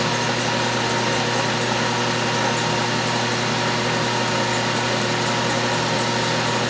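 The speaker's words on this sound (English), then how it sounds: "This is going to be hard drilling" A drill bores steadily into hard steel for a wiggler edgefinder, a constant loud whirring machine drone with no pauses or voices.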